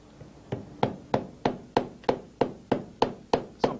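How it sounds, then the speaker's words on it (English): A hammer head made of frozen mercury drives a nail into a piece of wood with eleven sharp, evenly spaced taps that grow slightly louder, each ringing briefly, up close with no voices. "I'm going to bang a nail into a piece of wood"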